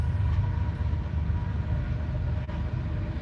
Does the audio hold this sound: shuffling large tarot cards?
no